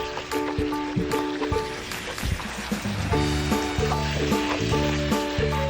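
Thin-sliced beef brisket (chadolbaegi) cooking in a pan, a steady close sizzle under background music, with no talking.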